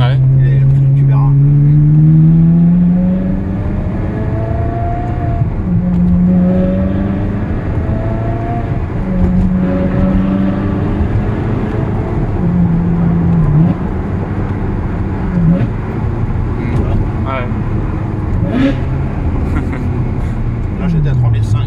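A Ferrari 360 with an F1 gearbox blips its engine close by: a loud first rev, then a series of shorter throttle stabs that rise and fall under ongoing conversation between two men.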